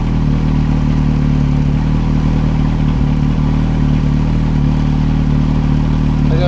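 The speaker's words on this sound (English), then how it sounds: "But the bike sounds good though." A 2003 Yamaha R1 motorcycle engine idles steadily up close, a loud continuous low rumble with a light clattering texture and a small bump partway through, with no talk.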